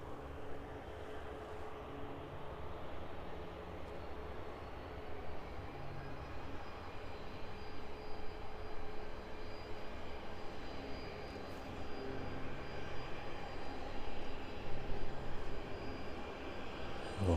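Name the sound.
aircraft taxiing at East Midlands Airport, departing to Dublin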